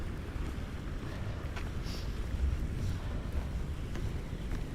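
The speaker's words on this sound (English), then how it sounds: "It's so windy." Strong wind buffets the microphone with a constant low rumble and gusting roar, loud and steady throughout, on a New York City street walk.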